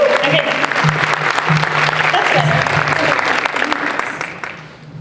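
An audience at a school junior night presentation claps steadily for several seconds while a person speaks over it, and the clapping thins out near the end.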